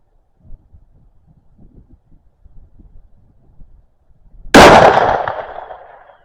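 A single loud, sharp rifle shot from a Ruger American Go Wild chambered in .243 cracks out near the end, decaying over about a second after several seconds of quiet, low handling and rustling sounds.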